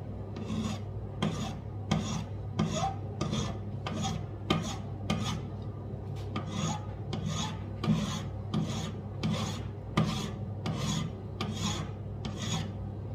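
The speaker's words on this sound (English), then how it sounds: "I'm just gonna smooth it out with a flat file and then just give it a nice chamfer again." Flat file smoothing a metal CO2 valve part for an airsoft pistol, steady rhythmic rasping strokes of about one per second, close and even over a low background hum.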